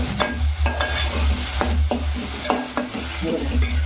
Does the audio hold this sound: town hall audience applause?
no